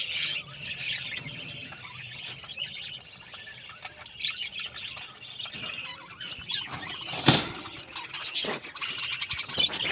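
A pet bird squawking and chirping in repeated shrill bursts at close range, with one louder harsh call partway through, against a quiet household background.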